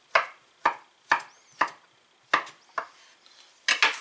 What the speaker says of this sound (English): Get all them chopped up